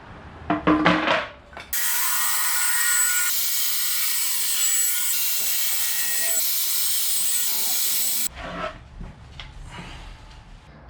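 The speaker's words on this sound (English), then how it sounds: "I've got 2 hexagons drawn, and I'll get those cut out now." Wooden hexagon end-table tops being cut out with a power tool, a loud, sustained high whine lasting several seconds, framed by shorter clattering handling noises before and after.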